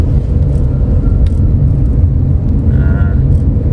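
A 1000 cc car straining uphill on a toll road in third gear, with a heavy, steady engine rumble and road noise filling the cabin, loud and continuous throughout.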